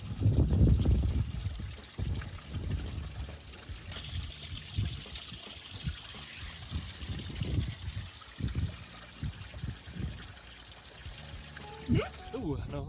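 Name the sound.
water trickling in a mountain stream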